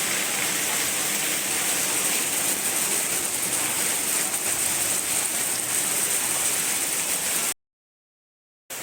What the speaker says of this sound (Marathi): बघा असं पावसाचं वातावरण आहे